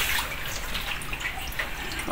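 Water rushes out of a washing machine drain hose after a clog is cleared, producing a steady, loud, continuous gushing and splashing that holds without a break.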